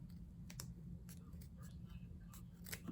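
Scissors cutting jeans fabric, a series of quiet, crisp snipping clicks spaced irregularly about half a second apart over a low steady hum, close and faint with no talking.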